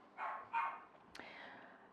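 A dog gives two quick barks nearby, followed by a sharp click and a fading tone in an otherwise quiet room.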